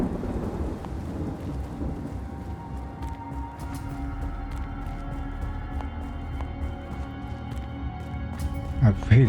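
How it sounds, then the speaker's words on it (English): A thunderstorm with rain plays out in the game Space Engineers: steady rainfall under low rumbling thunder throughout, with a sharper crack of thunder near the end. "I really don't need a thunderstorm right now while I'm trying to run for cover."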